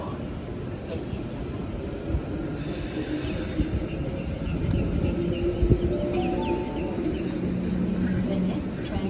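A Sydney Trains service moves along the platform at Strathfield station with a steady rail rumble, a brief high wheel squeal and passing clatter, under faint station announcements and ambient crowd noise.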